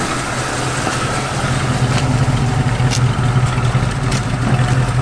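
A 1969 Ford Mustang Sports Roof sits idling close by, its engine giving a steady, loud low rumble that holds an even rhythm throughout with no talking over it.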